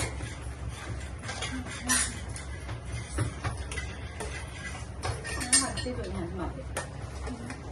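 Pots and dishes clatter and clink repeatedly at close range, irregular knocks and rattles with a voice in the background.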